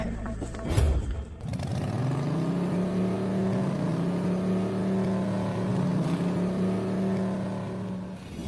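Motorcycle ridden along narrow field paths on a country route; after a brief burst, a steady mid-pitched engine drone holds for several seconds with slight rises in revs, close and alone.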